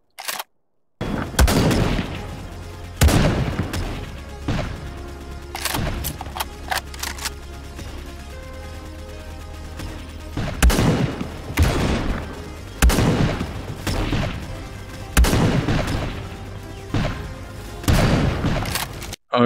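Weapons fire in the video game XLR as a series of sharp, loud shots, some single and some in quick bursts, spread unevenly over the stretch with quiet gaps between them.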